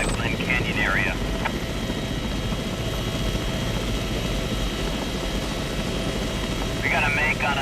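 Broadband rotor roar of a news helicopter flying near Glen Canyon, Utah, a steady loud wash throughout, with brief radio-style voice chatter at the start and end.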